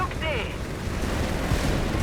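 A German Pak 40 anti-tank gun fires during a Company of Heroes 3 match, with heavy booms and dense battle noise filling the mix while a commentator talks over it.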